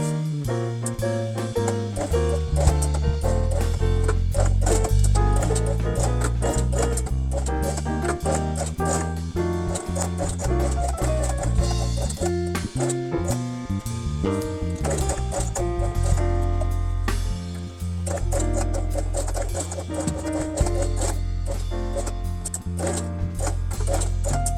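A sewing machine stitches a felt quiet-book fox page with a steady, close mechanical whir and a rapid rhythmic needle clatter that runs without a break for the whole stretch.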